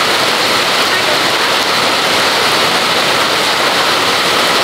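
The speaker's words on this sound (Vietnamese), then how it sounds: "Mưa nó mát hẳn luôn." Heavy rain pours down steadily in the Vietnamese countryside, a loud, dense, unbroken hiss close by with no other sounds.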